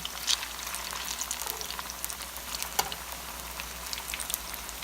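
Yellow plantain slices fry steadily in a pan of hot oil, a constant close crackle with scattered sharper pops and no talking.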